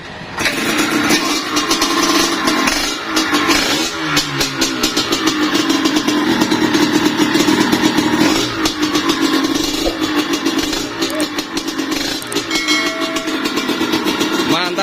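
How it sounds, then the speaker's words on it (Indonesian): A Husqvarna trail motorcycle fitted with a Kawasaki Ninja engine runs steadily with a rough, throaty exhaust note, revving slightly up and down, loud and close throughout. "kita tes suara knalpotnya bosku."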